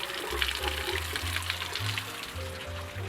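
Water from an AquaVac aquarium siphon running into a sink, a steady continuous splashing flow with faint low gurgles, close and fairly quiet throughout.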